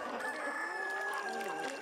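Free-range chickens and a rooster on a farm, with a long rooster crow carrying clearly over steady clucking and bird chatter, all fairly close and continuous.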